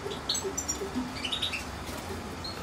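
Canaries and goldfinches in a cage give quick, bright chirps and tweets, scattered irregularly and fairly close but soft, over a quiet background hum.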